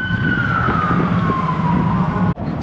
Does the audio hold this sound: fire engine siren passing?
yes